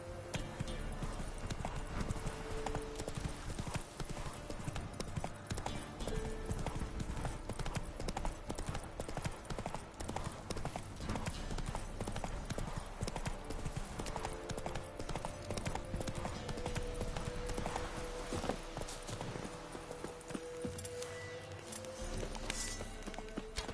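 A horse's hooves clip-clop steadily and rapidly over the ground in The Witcher 3: Wild Hunt on PS5, close and continuous, with a voice speaking over the galloping rhythm and an occasional whinny.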